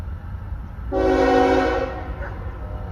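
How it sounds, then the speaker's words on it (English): BNSF freight train horn sounding one loud, sustained blast near a crossing in Palmetto, set against a low rumble of the passing train. "We will chase that train up to this crossing in Palmetto and see him again"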